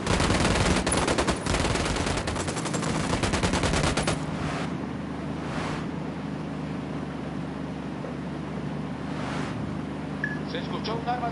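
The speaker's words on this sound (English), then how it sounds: "Se escuchó un arma de fuego." Gunfire in the Ghost Recon Wildlands video game: loud rapid automatic bursts at the start, then a sustained rumbling ambience with a few softer distant shots and occasional voices.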